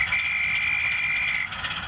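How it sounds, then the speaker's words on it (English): Guard's whistle from a model railway sound decoder, a single sustained shrill whistle tone lasting over a second, clear and close against a faint background hum. "Let's have a guard whistle"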